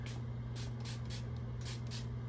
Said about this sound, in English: Let me get some more spray on my face.